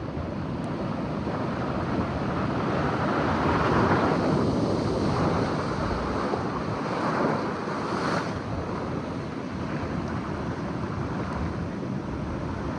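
Big ocean waves roar in a continuous wash under heavy wind buffeting the microphone, loud and close, with swells rising and falling and no talk.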